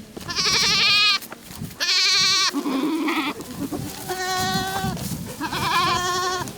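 Goats, part of a herd of about fifty kept in the frontline town of Orikhiv, bleat loudly and close by in several separate wavering cries one after another, with short gaps between them and no human voice.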